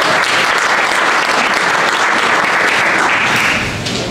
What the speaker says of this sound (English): Round of applause for Lori Houston